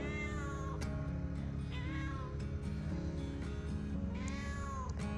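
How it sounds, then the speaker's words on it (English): A cat on a snowy site meows and whines repeatedly in drawn-out, plaintive cries over a steady low background rumble. "I'm sorry, Kitty. I can't do anything about the snow"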